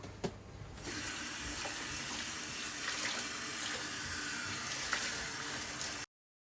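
Water runs steadily from a tap or hose while a motorbike is washed outdoors, a constant close hiss with a faint knock near the start and no talking.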